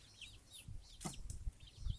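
Farm hens, laying birds, cluck and chirp softly at a distance in short scattered calls, faint over low background noise.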